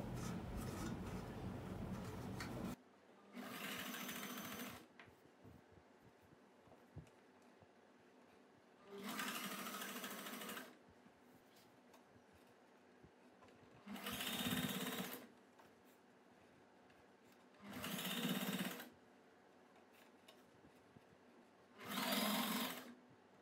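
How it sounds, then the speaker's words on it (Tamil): A sewing machine stitching the neck edge of a churidar in repeated short bursts, each a loud steady whir of a few seconds separated by quiet pauses. "இந்த எட்ஜில் அப்படியே தையல் போட்டுடலாம் நம்ம."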